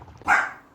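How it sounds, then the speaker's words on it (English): A single sharp dog bark sounds nearby, loud and brief, over a quiet background. "That's my dog."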